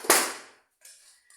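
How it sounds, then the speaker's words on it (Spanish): Inco brand hammer striking metal while a Garelli moped's centrifugal clutch is taken apart, one sharp, loud, ringing blow close by, followed by faint ringing and a small clink. "Martillo Inco."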